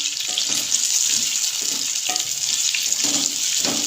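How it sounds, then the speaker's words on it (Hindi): Potatoes fry with onions in a karahi, giving a loud, steady sizzle with crackling bursts throughout, no voices. "इसको हमें अब 6 से 7 मिनट अच्छे से प्याज के साथ फ्राई करना है आलूओं को।"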